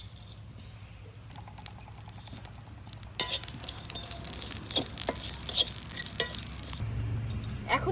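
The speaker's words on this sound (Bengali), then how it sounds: "এই দেখুন মৌরি আর একটু কিছুটা রাঁধুনি, এই দুটো একসাথে ভেজে নেব।" Fennel seeds and radhuni are fried together in a pan. A quiet start gives way to a louder, crackling sizzle about halfway through, with stirring rattles and sharp pops as the seeds hit the heat.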